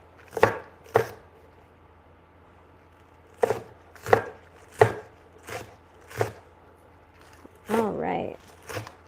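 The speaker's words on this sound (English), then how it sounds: "I'm just going to chop them up" A knife chops green onions on a cutting board in crisp, separate strikes: a pair, a pause, then a loose run of single chops with brief gaps, near and clear against a quiet background.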